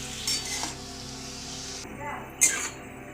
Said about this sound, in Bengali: এই পেঁয়াজের পেরেস্তাটা করার জন্য তোমরা খুব লো ফ্লেম দিয়ে পেঁয়াজটা ভাজার চেষ্টা করবে।